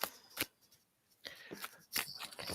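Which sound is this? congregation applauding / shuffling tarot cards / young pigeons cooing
shuffling tarot cards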